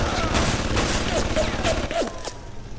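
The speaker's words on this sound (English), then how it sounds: "I think they're turrets, aren't they?" Automated turrets firing in BioShock, a rapid series of moderately loud shots with booming impacts, heard alongside voices.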